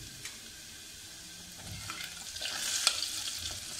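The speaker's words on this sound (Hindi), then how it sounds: "मसाले को अच्छी तरह इसमें भूनना है।" Coriander powder, turmeric and red chilli powder roast in a pan while being stirred, with a quiet crackling sizzle and spoon scrapes that grow louder toward the end.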